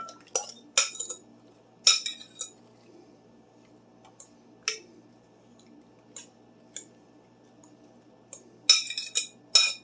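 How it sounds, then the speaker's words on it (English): Utensils scrape and clink against a casserole dish as a food mixture is dumped in, a series of sharp metallic knocks and scrapes in irregular bursts, close and fairly loud against a quiet background. "Then we're going to dump it into the casserole dish."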